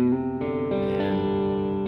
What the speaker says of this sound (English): And here I go, changing up the reverb sound a little bit.